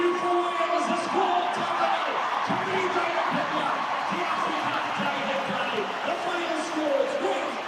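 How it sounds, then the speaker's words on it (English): Crowd cheering and applauding at the end of a 2017 rugby test match, Wales beating South Africa 24 to 22, a steady broad roar of a large stadium crowd sustained throughout, with a commentator's voice faintly beneath. "Delight in the crowd."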